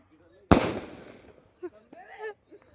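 A single firecracker bursts sharply and close at a birthday celebration, its crack decaying over about a second, followed by brief voices talking.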